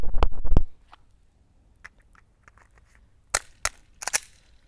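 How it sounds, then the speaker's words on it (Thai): A Glock 19 pistol with a red dot sight fires rapid shots at human-silhouette targets. A quick burst of loud, sharp cracks opens the clip, and after a quiet stretch come a few more paired shots, with no voices. "ยิงเร็วดูบ้างนะครับ เป้าหุ่นคน 4 เป้าเอ้ยสเป้านะครับผมยิงเป้าละ 2 นัด"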